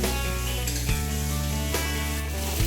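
Boiling hot water poured into a pan of cauliflower and duck egg curry, giving a loud, steady sizzle and hiss that runs without a break for a few seconds, close by, with no one talking.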